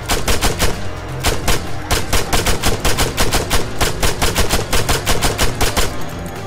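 Rapid bursts of automatic gunfire ring out in the video game Arma 3 Epoch as shots are fired at an e-bike. The cracks come loud and close in fast, repeated volleys with only brief pauses between them.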